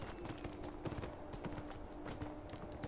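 Rhythmic clip-clop of horse hooves trotting steadily in the video game Beyond: Two Souls, close and clear, with a faint constant tone behind it.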